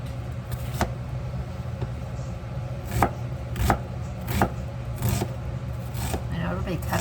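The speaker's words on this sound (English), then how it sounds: "Just how I cut an onion." A knife chops an onion on a cutting board in a home kitchen, giving sharp, irregular taps against steady background noise while someone talks over it.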